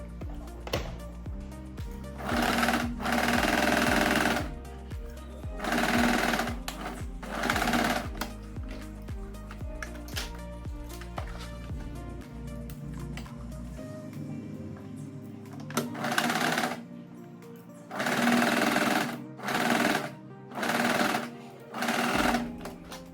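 A sewing machine stitches the layers of a reversible, scoop-neck backless tie-back top, running in repeated loud bursts of a few seconds each with short pauses between runs and no talk.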